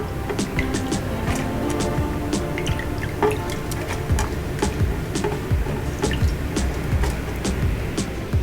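Soaked chili peppers and their soaking water drop into a blender, with a steady trickle and splashing drips, many small wet plops and clicks at close range and no voices.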